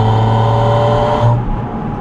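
A Porsche 718 Spyder RS in seventh gear swelling to a loud, harmonic engine drone under light throttle, heard from inside the cabin, then easing off after about a second and a half.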